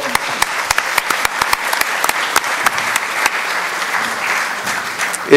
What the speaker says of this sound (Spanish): Un voto de aplauso para ella, por favor.